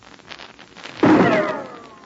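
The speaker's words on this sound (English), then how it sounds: "Did you hear that rifle shot?" A single sharp rifle shot from an old-time radio drama cracks out suddenly and loudly, followed by a ringing, whistling decay over a faint background.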